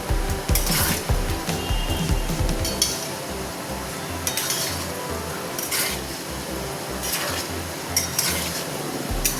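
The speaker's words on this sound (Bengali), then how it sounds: "একটু নাড়াচাড়া করবো।" A spatula stirs and scrapes potato paneer biryani gravy in a pot, with repeated rubbing, rasping strokes against the metal in an uneven rhythm, close and fairly loud, with no talking.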